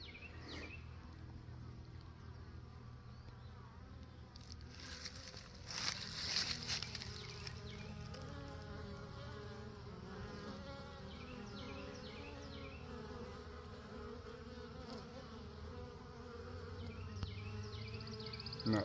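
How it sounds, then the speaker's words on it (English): Honey bees swarm close around an observation hive, giving a dense, continuous buzzing hum with individual bees droning past the microphone, and a brief louder flurry midway. "There's the whole reason I came up here is to deal with the"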